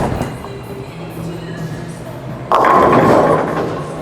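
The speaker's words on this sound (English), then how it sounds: "They both struck, they look the same going through the pins" A Columbia 300 Pulse bowling ball rolls with a low rumble, then crashes into the pins with a sudden loud clatter that fades over the last second and a half.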